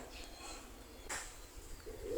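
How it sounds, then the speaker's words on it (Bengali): A pair of English Black Nun pigeons in a loft in Khulna coo softly, with faint low murmuring calls and a brief rustle against quiet background noise. "এখানে এক জোড়া ইংলিশ ব্ল্যাক নান রয়েছে"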